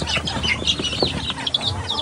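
Bourbon Red mix turkeys cluck and flap in a farm pen while being moved into their cage, a busy stream of close, overlapping calls and rustling throughout.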